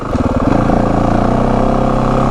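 A 2025 Yamaha WR450F motorcycle engine chugs steadily at low revs, a loud, close, continuous throb with a rapid even rhythm that runs the whole way through, with no talk.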